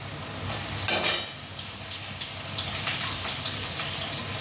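Onion hits a hot pan for a potato-eggplant curry, a brief louder burst of sizzling followed by a steady, softer frying hiss with faint scraping, no talking.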